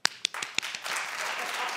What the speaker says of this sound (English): But clap if you like Jocelyn.